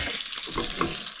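Chicken pieces fry in a pan on a small van-life stove, crackling and sizzling continuously and fairly loudly up close, with irregular pops and stirring scrapes throughout.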